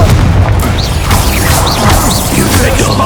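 Expulso explosion spell cast in Hogwarts Legacy, a loud dense boom with crashing debris that fills the whole moment, close and heavy, under continuous game noise.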